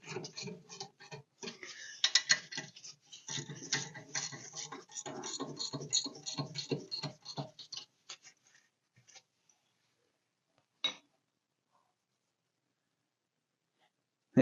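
Metallic clicking and ratcheting from a 1/2 inch wrench tightening the wheel bearing nut on a 1966 Dodge Charger, a busy run of close ticks for about eight seconds, then a few isolated clicks with no talk.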